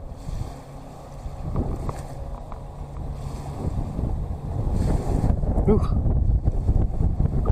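Wind gusts rumble across the microphone beside water at Laughlin, a continuous low roar with faint lapping waves and boat noise, growing stronger toward the end, with a brief voice in the background.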